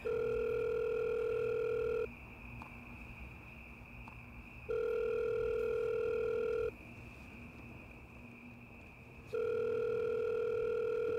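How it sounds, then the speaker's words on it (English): A telephone ring tone plays on a handset in a short film, in even pulses about two seconds long separated by gaps of similar length, three bursts in all, fairly faint with no talking over it. "I'm calling Pete to warn him about T-Dog"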